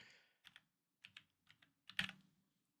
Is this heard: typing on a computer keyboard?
yes